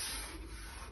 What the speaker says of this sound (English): And bit more sanding